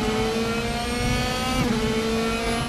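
A race car engine in the RaceRoom racing game holds a high, sustained whine at steady high revs, loud and close, with a brief shift in pitch partway through and no talking.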